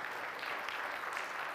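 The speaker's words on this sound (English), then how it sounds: "Can you please give those folks a round of applause?" Audience applause after a call to thank Vacation Bible School volunteers during an outdoor church worship service, a steady, faint wash of clapping with no voices.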